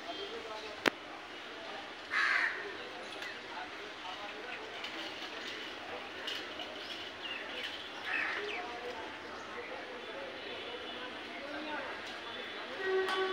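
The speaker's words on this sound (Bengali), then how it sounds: "মাংসের দোকান সামনে কত কাক বসে আছে" Crows caw near a roadside beef shop in a small Bangladeshi town, with a few bursts standing out over a steady hum of town noise and passing traffic, and some background voices.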